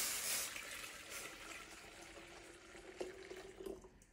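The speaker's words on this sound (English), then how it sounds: "Once your water comes to a boil, you're gonna carefully add it into your pitcher." Boiling water is poured carefully into a pitcher for sweet tea, a quiet, steady trickling and splashing that gains a few brief bubbly glugs near the end, with no talking.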